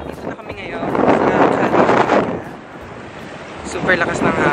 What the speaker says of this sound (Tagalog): Super lakas ng hangin.